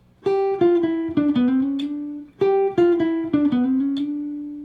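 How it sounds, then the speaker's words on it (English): A quick single-note jazz guitar phrase, a lick with bent and sliding notes, played twice in a row, clean and close, with no voices. "So again, a really nice lick, especially on guitar."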